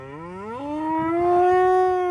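A miniature cow on a quiet Genesee County farm lets out a single long, loud moo that rises in pitch and holds steady, sounding close and clear.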